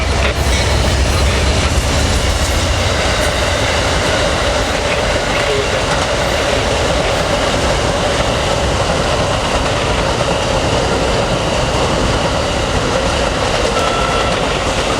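A SunRail freight train shoving north on the rails near Orange City, its loud, continuous rolling rumble and clatter of wheels filling the scene, close and steady throughout.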